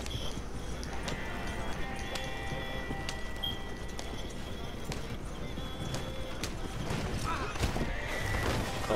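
Horse hooves clop steadily with occasional whinnying in a video game, heard beneath constant game audio and music while people talk over it.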